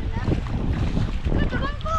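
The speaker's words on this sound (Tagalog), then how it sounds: "Hangin na." Wind rushing over a small fishing boat at sea, a steady broadband roar with buffeting against the microphone throughout, and people talking faintly underneath.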